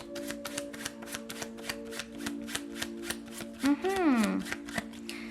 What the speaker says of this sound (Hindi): तो चलिए शफल कर लेते हैं आपके लिए कार्ड्स